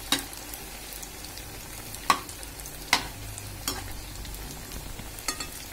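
Bread chum chum frying in hot oil until golden brown, giving a steady crackling sizzle with a few sharp pops and spatters, close and alone without talk.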